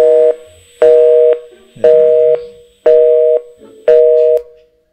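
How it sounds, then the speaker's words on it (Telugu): Repeated telephone tone in a youth skit for a New Year 2025 church event: five steady, loud beeps of about half a second each, evenly spaced, heard alone while a call is being placed. "లక్కీ బ్రదర్ కాల్ చేద్దాం."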